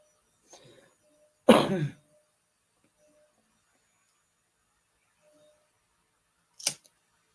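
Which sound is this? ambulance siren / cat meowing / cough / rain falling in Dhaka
cough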